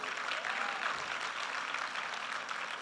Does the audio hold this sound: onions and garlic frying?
no